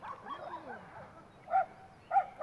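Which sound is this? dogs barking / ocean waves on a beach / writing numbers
dogs barking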